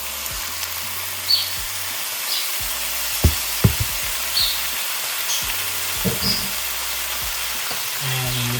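Lupin stirred and frying in a pan, a steady soft sizzle with scattered knocks and scrapes of a spoon against the pan, close and moderately loud, with no talking.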